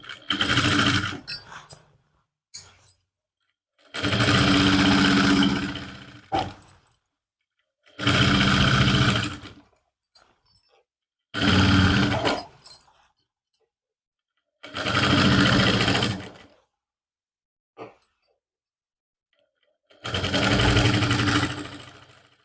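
A sewing machine stitches suit lining near the neckline in six separate bursts of rapid, close mechanical whirring, each lasting one to two seconds, with quiet pauses and faint handling noises between them.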